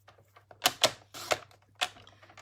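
Cardstock pieces for a fun-fold card being cut to size, heard as a few sharp, crisp clacking slices close by, spaced irregularly over a couple of seconds with quiet gaps between.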